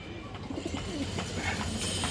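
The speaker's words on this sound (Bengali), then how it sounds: "দর্শক বিগ সাইজের একটা নর কবুতর" A big male pigeon coos in soft, low, repeated phrases over a faint background hiss, with no other voices nearby.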